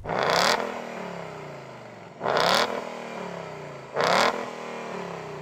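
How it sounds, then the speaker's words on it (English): Ford Mustang GT V8 engine revved three times in quick succession, each sharp blip rising and falling back to a burbling idle, loud and close with no talking. "Let's have a listen to that V8."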